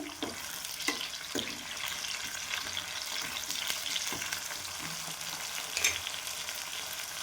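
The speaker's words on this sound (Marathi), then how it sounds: "टमाटर टाकून घेते आणि टमाटर पण छान भाजून घेते" Tomatoes frying in oil with browned onion in a pan, a steady close sizzle with intermittent clacks and scrapes of a spoon stirring.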